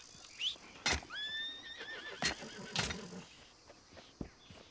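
A horse whinnies in a rising, wavering neigh in the video game Red Dead Redemption II, with a few sharp knocks and thuds around it and faint background noise.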